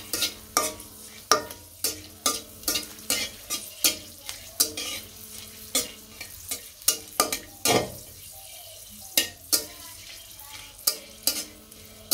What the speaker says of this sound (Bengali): শুকনো মরিচটা ভাজা হয়ে গেছে,